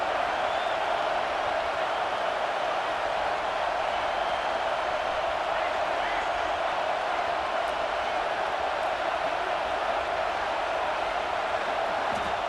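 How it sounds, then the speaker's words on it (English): A stadium crowd at a college football game, Clemson against Michigan, sends up a steady, unbroken roar that fills the whole stretch at an even, loud level with no clear voices standing out. "The roar of the crowd trying to fuel this defense to keep them pinned in their own end."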